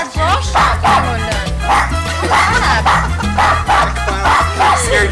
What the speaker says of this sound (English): The dog doesn't even like you.